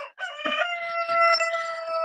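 A chicken crows once in a coop, a clear, close, drawn-out cock-a-doodle-doo call with brief clucks around it, and no talking.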